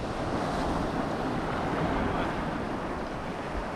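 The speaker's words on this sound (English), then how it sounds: "It's just a little bit windy, so hopefully you guys can hear me." Steady wind buffets the microphone at a windy shoreline during fishing, a constant low rumble mixed with surf-like roar that runs unbroken from start to end with no voices.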